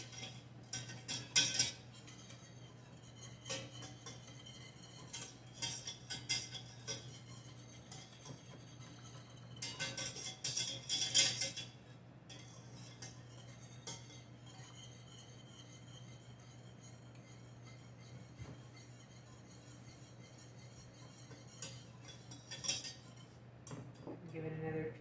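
Metal whisk clinking and scraping against a pot as homemade cheese sauce thickens, in irregular bursts of clatter with quieter stirring between and a steady low hum underneath.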